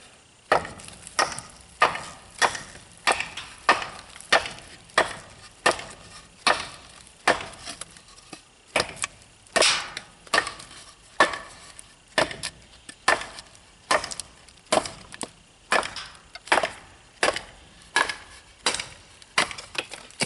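A knife chops into wood over and over during an edge test of 3V and O1 steel blades, with grit and sand on the wood. Sharp, evenly spaced close whacks come roughly once a second, about twenty in a row, with no talking.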